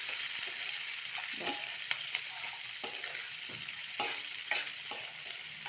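Food frying in a little oil in a pan, a soft continuous sizzle broken by repeated scraping stirs at an irregular pace, close and moderately quiet, with no talking.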